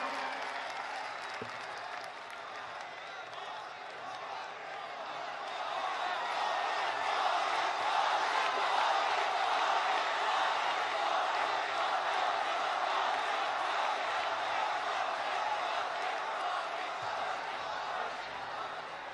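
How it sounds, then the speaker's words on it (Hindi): Loud, sustained applause from a large audience welcoming Rajasthan's chief minister Vasundhara Raje at a Sri Sri Ravi Shankar gathering of students in Kota, swelling after a few seconds and continuing steadily throughout, with a faint voice beneath the clapping. "माननीय श्रीमती वसुंधरा राजे जी, जोरदार तालियों से उनका स्वागत करें,"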